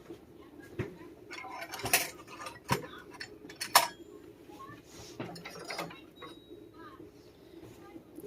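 A knife cuts a tortilla, with sharp clinks and taps against a pan or cutting surface scattered across a few seconds over a low kitchen hum, with a voice faintly present.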